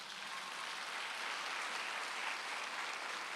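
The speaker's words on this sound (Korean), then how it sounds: "깨달은 사람은 박수 한번 쳐보시죠" Church congregation clapping together during a Sunday worship service, a continuous, even wash of hands heard from a distance, quiet and steady.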